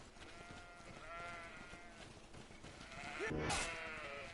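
Sheep bleat repeatedly in the GreedFall video game, wavering calls layered over steady ambient game sound, with a louder burst near the end.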